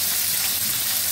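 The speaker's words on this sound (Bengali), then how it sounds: "আলুটা ভেজে নিচ্ছি" Potatoes frying in a pan in a home kitchen, giving a steady, dense sizzle and hiss that runs unbroken for the whole moment, close and fairly loud, with no voices.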